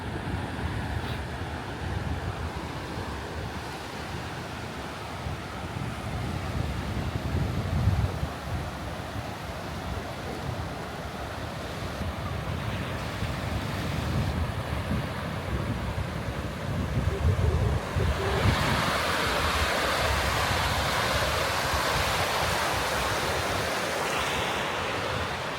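Steady surf rolling onto a long sandy beach at Reighton Sands, a continuous wash of breaking waves with some wind rumble, swelling louder in the second half.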